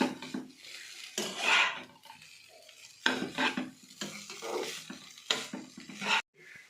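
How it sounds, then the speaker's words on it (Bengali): Maggi noodles with masala being stirred and fried in a pan, with bursts of scraping and sizzling in irregular strokes separated by short quieter pauses, close and fairly loud. "একটু ভাজা ভাজা করে নিই তারপরে"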